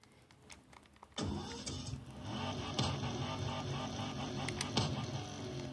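A car engine in Need for Speed Most Wanted starts up with a sudden mid-pitched rumble and settles into a steady idle hum, with occasional sharp clicks and no talking.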